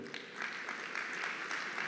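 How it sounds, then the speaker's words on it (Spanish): Church audience applauding steadily throughout, a dense broadband clatter of many hands at moderate loudness with no speech over it. "Dele un fuerte aplauso al Señor."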